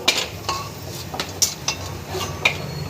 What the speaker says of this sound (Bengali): ভেজে নিচ্ছি দেখো কি সুন্দর খাস্তা আর কি সুন্দর ফুলে বড় বড় হয়ে যাচ্ছে